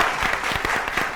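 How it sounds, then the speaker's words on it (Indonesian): Studio audience at a televised quiz show clapping on cue, a brief burst of many hands with individual claps audible, close and fairly loud, no voices. "tepuk tangan lagi dong"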